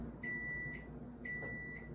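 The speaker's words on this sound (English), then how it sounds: "I love the beep because it means that something's ready." Two long, clear electronic beeps from a microwave oven, evenly spaced about a second apart, over a low background hum.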